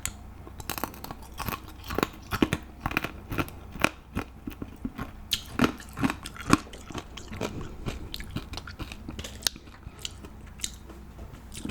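Popping candy and a lollipop are crunched close to the mic, with sharp irregular bites, cracks and crackles repeating steadily for several seconds with no talking.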